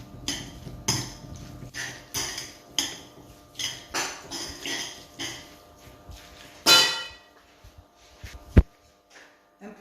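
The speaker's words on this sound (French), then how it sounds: "Après, je mélange tout." A spoon mixes avocado filling with mayonnaise and salt in a bowl, making a steady run of rhythmic scraping clinks up close, followed by a louder clatter and one sharp knock near the end.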